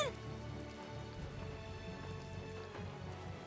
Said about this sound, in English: The only one here that's protected from the rain is Carol.